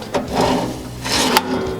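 A sticky, dirt-clogged toolbox drawer slide is pulled open in two short, scraping grinding strokes, each with a rough rubbing rasp and a small catch at the end, heard close.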